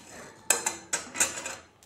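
Whole spices are stirred and dry-fried over low heat in a pan for an amla pickle, with a handful of sharp metallic clinks and scrapes of the spoon against the pan, fairly faint and close.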